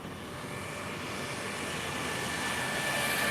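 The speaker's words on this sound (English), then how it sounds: "This EasyJet has just landed." Steady broadband roar of an EasyJet airliner rolling out just after landing, a continuous jet engine rush that grows slightly louder, with no voices.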